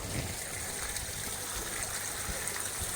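A Tempest pump running with water flowing, a steady rushing, trickling wash held at an even level throughout, fairly close and without talk.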